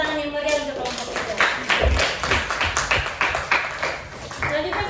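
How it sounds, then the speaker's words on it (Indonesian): Rhythmic hand clapping from a small classroom group, applauding a student team after its presentation at a teacher training session; steady, fairly close claps with voices talking over them. "beri tepuk tangan yang meriah untuk kelompok itu"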